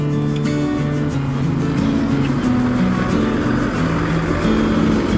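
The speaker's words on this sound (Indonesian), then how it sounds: "Jam 7:30 lewat 11 menit Dewi Sri Besli diberangkatkan dari Terminal Tegal" A Dewi Sri Besli coach pulling out of Tegal bus terminal, its engine droning loud and near in a steady low rumble that holds for the whole stretch without a break.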